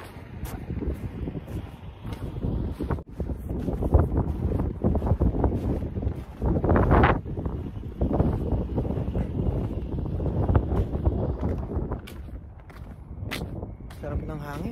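Steady wind buffets the microphone outdoors on a cool day, a continuous rushing roar with gusts that swell and fade, while people talk intermittently over it.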